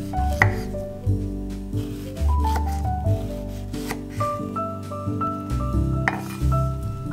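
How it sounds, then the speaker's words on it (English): A knife cuts washed pears into thick slices on a board, a series of soft, close thuds and scrapes at irregular intervals over steady background music. "Cut into thick slices."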